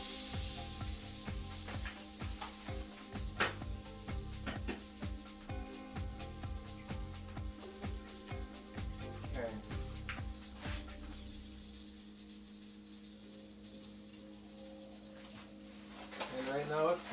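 Eggs frying in a pan on medium heat give a crackling sizzle with pops and clatters of handling under a person's talking, the sizzle easing later before clatter returns near the end.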